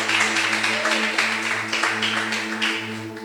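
A church congregation at a Sunday service claps together in steady applause for several seconds, with a sustained organ or keyboard chord humming underneath.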